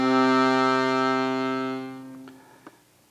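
An accordion note played on low and middle reeds together, an octave apart, giving a full, thick sustained tone that fades after about two seconds, followed by a couple of soft clicks from the instrument.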